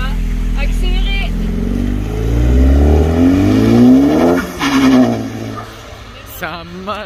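A car revving hard and accelerating past at the International Motor Show, a loud rising engine roar that sweeps up in pitch and fades, with people talking over it.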